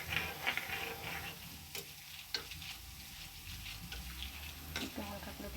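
Food frying in oil in a home kitchen pan, a steady crackling sizzle with irregular pops and occasional clicks of a stirring utensil, moderately close and quiet.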